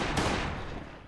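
A Glock pistol fires in the survival video game Last Day on Earth, a single loud, close gunshot with a sharp crack that fades into a short echoing tail.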